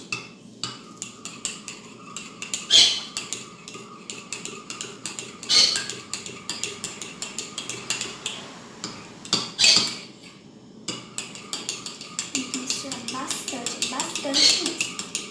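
A spoon stirs pudding batter inside a mug, scraping and clinking in an uneven rhythm with a few louder knocks against the rim, while someone talks over it now and then.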